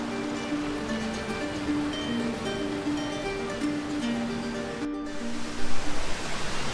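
A constant roar of falling water from a waterfall on the Tanyard Creek Nature Trail runs throughout, loud and steady, with a faint tonal hum and a few louder bumps near the end.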